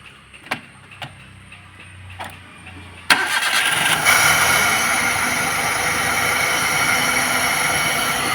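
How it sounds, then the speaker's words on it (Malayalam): A few quiet clicks, then a Maruti Suzuki Alto's engine, which has a pickup problem, cranks and catches abruptly, settling into a loud, steady idle that rises slightly before holding. "ഇനി നമുക്ക് വണ്ടി സ്റ്റാർട്ട് ചെയ്യാം"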